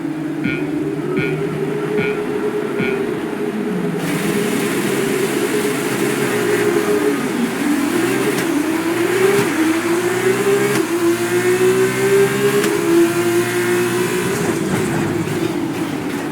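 Formula 2 race cars in the game F1 2020 launch off the grid at the sprint race start at Circuit of the Americas, a pack of engines revving hard and shifting up through gears in a continuous rising roar.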